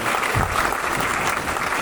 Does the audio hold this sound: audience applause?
yes